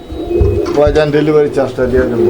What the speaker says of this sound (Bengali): বন্ধুরা আমরা এই মুহূর্তে পাচ্ছি আরো এক জোড়া কবুতর